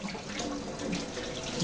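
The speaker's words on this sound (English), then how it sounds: "Now I'm going to get the water flowing until it fills up." Water runs steadily from a tap into a container as it fills, a constant close rushing splash with no pauses.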